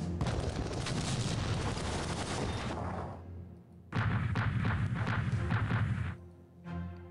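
Belgian artillery fires in support in Strategic Command: World War I, a long rolling roar of blasts, a short lull, a second dense barrage of rumbling impacts, then a final lighter burst. No voices.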